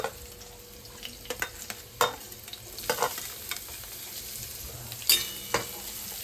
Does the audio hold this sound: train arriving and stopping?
no